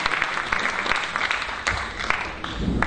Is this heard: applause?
yes